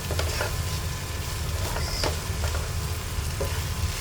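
Okra with turmeric is stirred in a hot pan, a steady close frying sizzle with repeated scraping strokes of the spoon.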